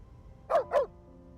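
A dog barking in the video game Beast of Reincarnation, two quick close barks in succession against near silence.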